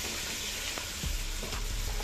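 Chunks of bottle gourd go into a pan of fried spices for a prawn curry, and a loud, dense sizzle rises with scraping stirs near the end.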